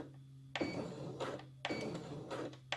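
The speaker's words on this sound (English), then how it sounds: "press the reverse button, one stitch at a time" A domestic sewing machine stitches in reverse one stitch at a time, giving three separate short mechanical whirring bursts over a steady low motor hum, close by with no talk.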